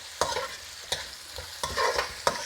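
Food frying in a pan on a home stove, stirred in four or five distinct scraping strokes over a steady close sizzle, with no voices.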